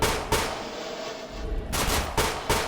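Gunfire in the Roblox video game rings out as several sharp, loud shots in quick bursts with short gaps between them, close and without talk.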